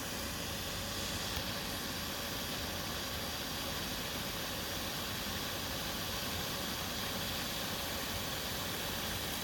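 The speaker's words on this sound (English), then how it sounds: "I guess that's why they call it a Jetboil, because it sounds like a little jet" A Jetboil camping stove burner roars with a steady, loud broadband hiss like a small jet, constant and unbroken throughout with no talk, at a camp pitched in a ditch.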